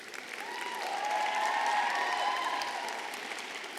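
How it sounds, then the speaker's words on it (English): Graduates at a university spring commencement ceremony applaud their families and friends, a large crowd clapping in a broad, sustained swell that rises and then eases, with faint cheering woven through. "I ask that you give your families and friends a round of applause for their support and encouragement"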